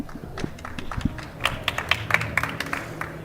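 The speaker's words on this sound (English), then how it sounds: "Big round of applause, warm welcome for Kelsey Steele." Audience applause welcoming a speaker onto the stage at a live NAB 2023 show, a scattered run of individual claps that builds into denser, sharper clapping from a nearby crowd.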